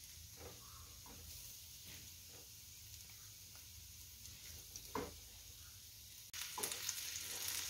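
Rice frying in a pan with whole spices, ginger paste and garlic paste, a steady soft sizzle with occasional stirring scrapes, growing louder and brighter near the end.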